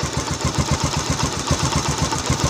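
A motorcycle engine runs close by after an ignition coil check, with a rapid, even putt-putt pulse, loud and steady throughout.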